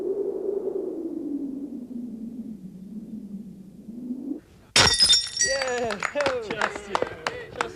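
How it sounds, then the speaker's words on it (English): A plate smashed on a film set at the first shot, a low sustained hum suddenly broken by a sharp crash and scattering, ringing fragments of ceramic bouncing and settling, with people's voices around. "Traditionally, a plate is smashed after the first shot of any Soviet film."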